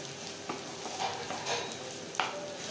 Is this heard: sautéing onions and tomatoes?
yes